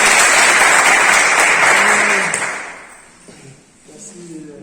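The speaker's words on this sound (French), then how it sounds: "Je voulais bien qu'ils approuvent par les acclamations" A crowd cheers and applauds loudly in a dense wash during a working visit to the FM station in N'lonako, then fades away, leaving a few scattered voices.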